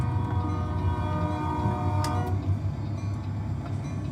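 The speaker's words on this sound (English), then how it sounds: "That's a train." A freight train rumbles past in American Truck Simulator, a continuous heavy roar with faint ringing tones and ticking, loud and unbroken throughout with no talk over it.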